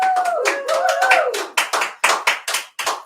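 A small studio audience of only a few people claps in a brief, sparse burst, the separate hand claps distinct and close, with a second person's voice briefly audible early on before the clapping thins into a few isolated claps.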